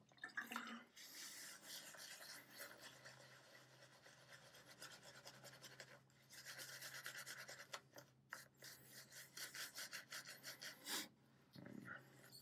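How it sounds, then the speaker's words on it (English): A shaving brush works lather on the face, giving close, soft, wet scrubbing and swishing strokes in steady rhythmic bursts with brief pauses, quiet and alone. "You can see as I'm building this lather"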